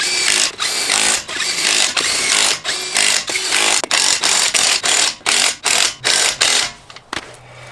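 A power tool fastens a wheel onto a lifted Ford F250 truck with a radius arm lift kit, firing in a rapid run of loud, close bursts of whirring and clattering, with short gaps between them that grow tighter toward the end.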